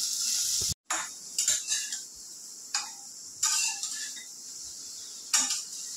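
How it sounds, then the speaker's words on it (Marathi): A spoon stirring okra with masala in a pan, giving a series of sharp metallic scrapes and clinks at an irregular pace over a steady background hiss. "आता आपण मस्तपैकी फिरवून घेऊया भेंडीला"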